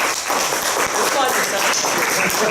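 A church congregation applauding, a dense continuous wash of clapping that holds steady and loud for a couple of seconds.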